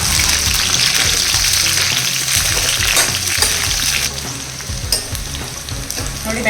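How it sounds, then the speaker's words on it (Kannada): Okra (ladies' fingers) fries in oil with a loud, dense crackling sizzle, while quick stirring strokes and scrapes come close up throughout, the hiss easing slightly toward the end. "ಎಣ್ಣೆಯಲ್ಲೇ ಎಲ್ಲ ಬೆಂಡೆಕಾಯಿ ಹಾಕ್ತಾ ಇದ್ದೀನಿ"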